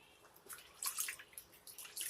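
Soft, irregular splashes and drips of water close by, with no talking, while a baby is washed with a washcloth.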